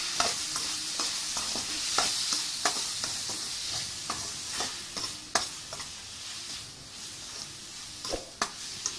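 Tomatoes sauté in a pan with salt, a soft sizzle broken by frequent sharp spatula taps and scrapes in an uneven rhythm, close and fairly quiet, with no voices.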